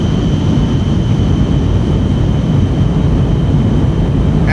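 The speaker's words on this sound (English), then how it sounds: "So I'm still in full afterburner." A Lockheed NF-104 Starfighter jet engine roars in full afterburner during a record altitude climb, a steady, dense, loud broadband rumble with a faint high whine running through it, alone and unbroken.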